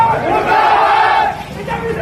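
A protest crowd chanting slogans against a BJP candidate at a Lok Sabha election 2024 rally in Meerut, a loud unison of shouting voices rising and falling under a sustained din.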